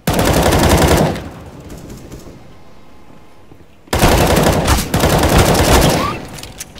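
Video game gunfire comes as two loud bursts of rapid automatic fire separated by a quieter lull of about three seconds, dense and close with no speech in between.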